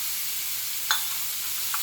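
Butter melting over sauteed onions and mushrooms in a pan, a steady close sizzle with faint scraping touches and a couple of light clinks.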